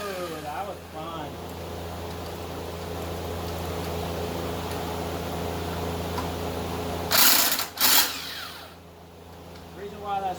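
A small impact wrench removes bolts on a 1968 Ford 2000 tractor, a steady mechanical whir with a high hum running for several seconds, then two short loud bursts of hammering rattle near the end.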